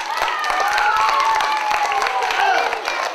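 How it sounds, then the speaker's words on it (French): Street-show audience clapping and cheering for performers cast as a princess and a knight, a full, continuous round of applause with scattered voices mixed in, close and loud. "je vous présente la princesse et le chevalier, on les applaudit bien fort"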